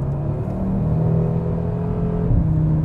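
A 2022 Audi RS3 sedan with 400 PS drives under load in sixth gear, its engine giving a steady deep droning rumble from inside the car, continuous and moderately loud with no talk.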